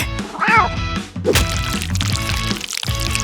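A cartoon cat lets out a short, rising meow amid busy music and sound effects, followed by other quick cartoon noises.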